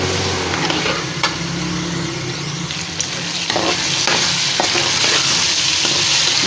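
Whole spices, cinnamon pieces, cloves, black cardamom and black peppercorns, fry in hot oil with a loud, dense, continuous sizzle, while occasional light spoon taps and scrapes stir the pan close by.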